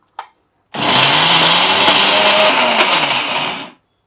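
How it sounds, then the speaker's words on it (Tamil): A mixer grinder whirs loudly as it grinds perandai thuvayal in a mixie jar, a brief click, then about three seconds of steady, close, high-pitched motor grinding that stops abruptly. "இந்த மிக்சியோட ஜாரில் போட்டு நல்லா அரைச்சி எடுத்துக்கலாங்க"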